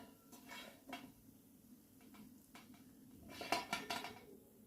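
Crisp ragi murukku dropped into a metal vessel, heard as faint, light clinks and rattles close by, with a short cluster of brighter clatters near the end.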